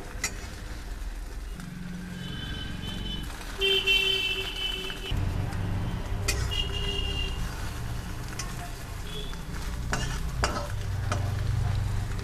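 Egg omelette frying in a wok-style pan on a gas stove, seasoned with salt and turned with a spatula, giving a steady sizzle with scraping and clinks over faint background noise.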